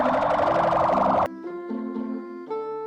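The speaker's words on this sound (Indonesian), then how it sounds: "Lihat teman-teman, ini ada mobil ambulans." A toy ambulance siren wails loud and close, a rapid warbling electronic tone for over a second before cutting to steadier, stepped toy tones that shift pitch in short segments.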